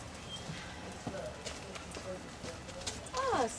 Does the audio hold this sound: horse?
yes